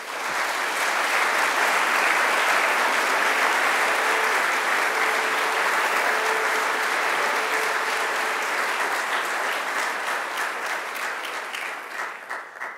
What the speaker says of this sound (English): I would like you to give them a mighty round of applause.